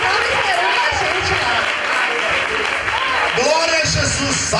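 Church congregation clapping in praise, a steady broad patter of hands that runs throughout, with voices calling out and speaking over it.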